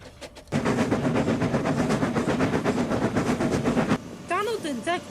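A train runs along rails, heard as a rapid steady rhythmic clatter that holds for several seconds and then gives way to softer sounds at the end.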